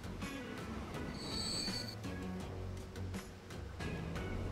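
Trains running in the Transport Fever railway game, with continuous rail rumble and wheel squeal, a high metallic screech rising briefly in the middle, steady and moderately loud throughout.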